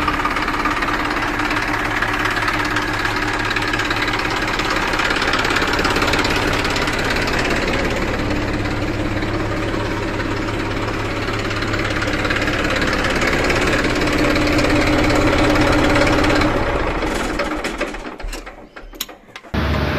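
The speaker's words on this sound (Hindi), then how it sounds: "तो किसान भाई, आवाज़ वगैरह सुन लीजिए, बहुत ही शानदार कंडीशन का ट्रैक्टर है।" A 2012 Massey Ferguson 1035 DI tractor engine idles steadily in Jaipur, Rajasthan, a continuous close, loud diesel rumble with a knocking pulse and no talk, which breaks up into rattling handling noise in the final seconds.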